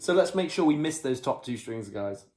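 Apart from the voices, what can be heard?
No everyday noise stands out behind the speech.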